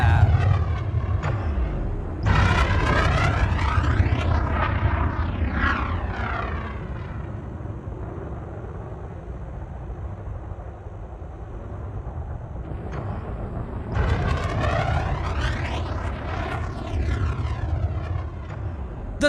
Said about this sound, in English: it sounds like a fucking wastegate opening up